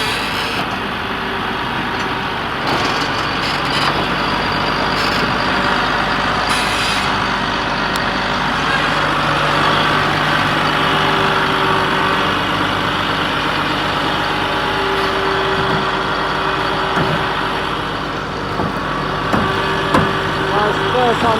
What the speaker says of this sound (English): First time this old bus has moved in a while